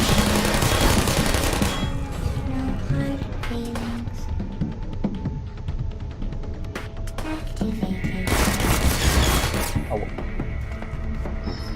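Turrets in Portal fire in rapid sustained bursts of gunfire, loud and close. The rattling volleys continue under a busy game soundscape and peak in dense stretches at the start and near the end.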